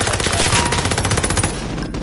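Loud, sustained machine-gun fire rattles in rapid bursts during an armored convoy ambush in a PS4 shooter, close and harsh, with no speech over it.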